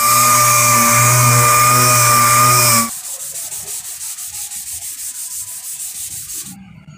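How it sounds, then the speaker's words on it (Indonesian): A loud, steady rubbing rasp of 240-grit sandpaper on car body filler gives way to rapid rhythmic back-and-forth scrubbing strokes, close up, with no voices. "menggunakan amplas 240 saja ya"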